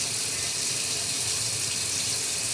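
Running tap water pours steadily into a sink during a toothbrushing routine, a continuous close hiss and splash with no talk.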